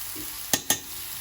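A spoon gives two quick, close knocks against the pot while mushroom stew seasoned with salt and paprika cooks over a faint, steady simmer, with no voices.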